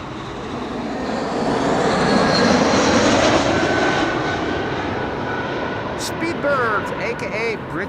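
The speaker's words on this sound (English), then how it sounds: "Speedbird, aka British Airways. Flight 434, arrival from London Heathrow" A British Airways jet arriving from London Heathrow roars loudly past at Schiphol Airport, a broad sustained engine rush that swells and slowly fades, with brief high tones at the end.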